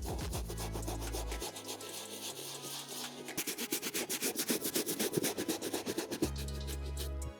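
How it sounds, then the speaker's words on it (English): Soft bristle brush scrubbing a suede sneaker, producing a close, soft, continuous scratchy rubbing with quicker rhythmic strokes in the middle; faint music runs underneath at start and end. "you just want to scrub lightly in that area to make sure we don't get rid of that embossed effect"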